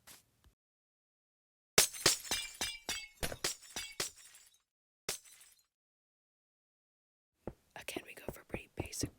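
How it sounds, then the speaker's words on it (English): Purple stained glass blocks shattering in Minecraft, a rapid run of crisp, close glassy breaks in a cluster, a lone break after a silence, then another quick burst of breaks; whispered talk comes in between. "I decided to go with some purple stained glass. I think it sounds really nice when it breaks,"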